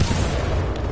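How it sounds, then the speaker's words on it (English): Grenade explosion in Titanfall 2: a dense, loud blast that fills the whole second with a heavy low rumble and crackling debris, no voices over it. "that was a grenade"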